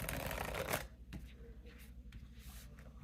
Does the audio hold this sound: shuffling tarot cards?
yes